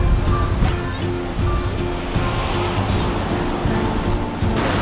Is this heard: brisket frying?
no